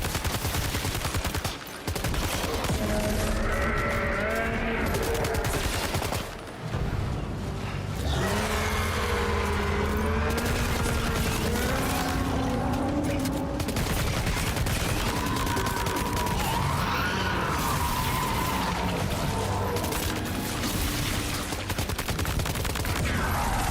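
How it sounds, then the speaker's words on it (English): Loud, sustained MP gunfire in the video game Death Stranding 2, rapid bursts mixed with heavy explosions and engine-like rumble, nearly continuous for over twenty seconds with only brief pauses. "Let's try one of these MP guns."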